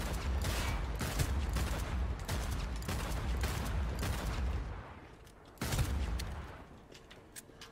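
Rapid bursts of automatic gunfire crackle through a firefight against gangsters in the video game Cyberpunk 2077, dense volleys running almost continuously with a brief lull before another loud burst.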